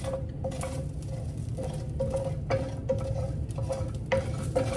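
Sichuan peppercorns toast in a very hot pan while being stirred, giving a close, steady sizzle broken by repeated scraping and clinking strokes of a utensil against the pan.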